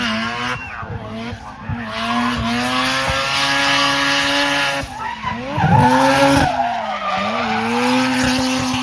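Honda race cars drift past in a championship event, tyres skidding and squealing in long sustained screeches over engine drone, the sound swelling and dipping as cars pass close by, with a voice talking faintly underneath.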